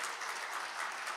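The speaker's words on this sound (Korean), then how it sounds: "박수." A church audience claps together in a brief, even burst of applause, many hands at moderate loudness with no talking over it.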